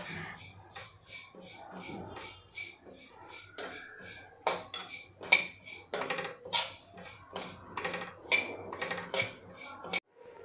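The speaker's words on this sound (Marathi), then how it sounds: "हे तीळ खमंग असे भाजून घ्यायचे आहे।" A quarter cup of sesame seeds is roasted in a hot kadhai over low flame, with a spatula repeatedly scraping and clinking against the pan in an uneven rhythm.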